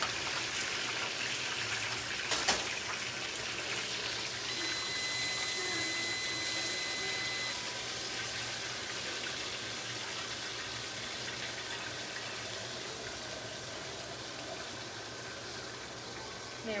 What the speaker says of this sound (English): Now I'm going to grab my silicone mix again and pour this oil off.